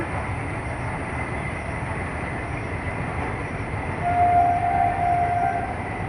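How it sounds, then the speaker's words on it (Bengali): A steady rumble of a train rolling past in the distance, with a sustained horn tone sounding partway through. "ওই যে ট্রেন যাচ্ছে দেখতে পাচ্ছেন আপনারা"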